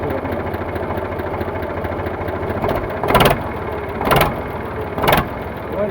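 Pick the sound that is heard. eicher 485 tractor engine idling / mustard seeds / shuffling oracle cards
eicher 485 tractor engine idling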